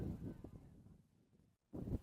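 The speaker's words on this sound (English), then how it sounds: "You hear the wind still whistling, even though we're deep in the afternoon." Wind gusts buffet the microphone at an outdoor soccer field, rumbling in low, uneven bursts that drop away briefly and then return.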